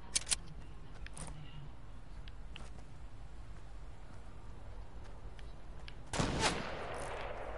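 Distant gunfire in Fortnite sounds as a few faint, sharp cracks early on, followed by one louder, nearer shot that rings out with a lingering echo near the end.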